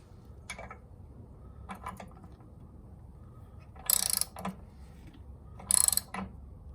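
A spark plug is ratcheted tight into a lawnmower engine, a few short clicking bursts of a ratchet wrench spaced over several seconds, fairly close against a quiet low background.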